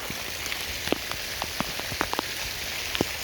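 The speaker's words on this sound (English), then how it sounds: "might be more rain than we're used to for a summer storm" Steady summer-storm rain falls outdoors at a sandy property, making a continuous hiss with scattered sharper drips and patters close by, no voices.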